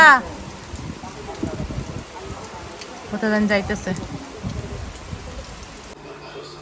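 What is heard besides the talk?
rain falling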